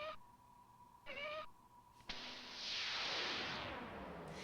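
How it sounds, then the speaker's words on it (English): A cat meows from a PC CD-ROM multimedia game about cats, two short moderately loud calls followed by a sustained whooshing swell that lingers under the last notes. "That is a multimedia cat if I've ever seen one."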